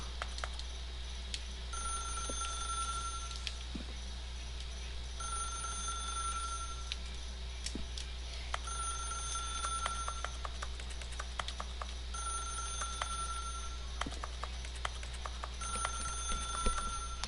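Telephone ringing in a video game, repeated ring bursts at steady intervals over a low hum, fairly faint and with no talk.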